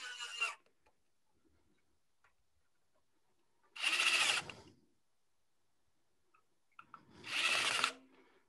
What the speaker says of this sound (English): now I will go ahead and put the screws in